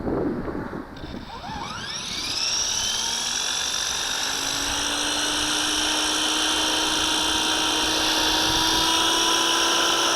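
A Walkera V450D01 RC helicopter spools up outdoors on a breezy day, its high whining motor and rotor pitch rising steadily into a sustained, fairly close hum with wind noise on the microphone.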